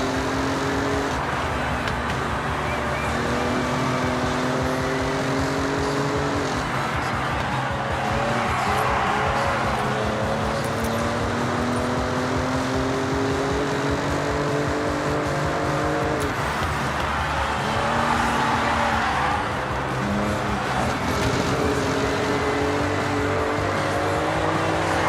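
A heavy car's engine revs hard through corners in the racing game Forza Horizon 6, loud and continuous, pitch climbing and dropping with gear shifts, tires squealing at times, no talking.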